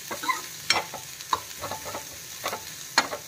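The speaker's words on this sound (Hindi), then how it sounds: "अब ये थोड़ा भुनाएगा, फिर टमाटर डालेंगे।" Onions frying in a pan while being stirred for South Indian rasam, with sharp scraping strokes and a soft sizzle beneath, fairly quiet and close, no voices.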